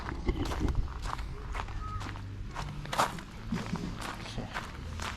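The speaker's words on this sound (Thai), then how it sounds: "จากห้องน้ำเดินกลับเต็นท์อ่ะคุณดูแล้วกันว่า" Footsteps on a path at a streamside campground in Suan Phueng, Ratchaburi, walking from the bathroom back to a tent: a steady series of close, distinct steps over a quiet outdoor background.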